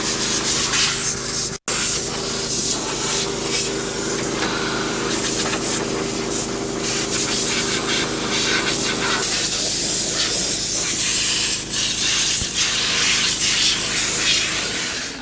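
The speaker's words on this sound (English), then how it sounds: "blow the radiator out real good" A steady, loud blast of compressed air blows wheat chaff out of a combine radiator during wheat harvest, a continuous broadband hiss that runs nearly unbroken for the whole stretch, over a low engine hum.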